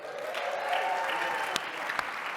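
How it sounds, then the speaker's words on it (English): Audience applause at a professional talk event, a steady even wash of clapping throughout, moderately loud and continuous with no voices over it. "Round of applause for crews."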